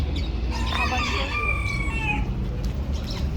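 Lohmann Brown chickens cluck and crow at a busy poultry market, with a rooster call rising over a steady low crowd rumble.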